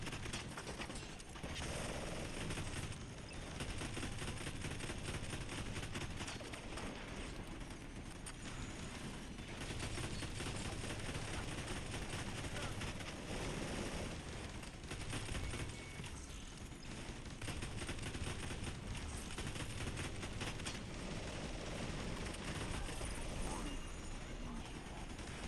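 Sustained bursts of enemy gunfire and grenade blasts in the shooter game The Division 2, a dense, continuous barrage of shots and explosions running loud throughout with voices talking over it.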